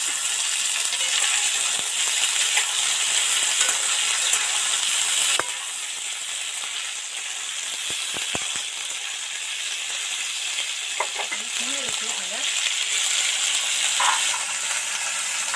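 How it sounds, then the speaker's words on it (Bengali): Vegetables fry in oil with tomato pieces added to the pan, producing a continuous bright hiss and sizzle that dips slightly partway through, with scattered faint clinks, and no one talking. "সবজিগুলো মোটামুটি তেল ছেড়ে এসছে ভাজা হয়ে এসছে এবার এর মধ্যে টমেটো টুকরো কটা দিয়ে দিলাম"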